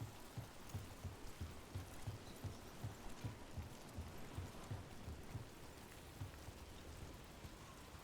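Steady rain patters throughout in the video game Dragon Age: The Veilguard, with a regular low thudding pulse underneath, like hooves or footsteps, and no talking.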